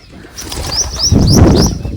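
A pigeon flapping its wings up close, a burst of loud, rapid wingbeats with a few high chirps at the start.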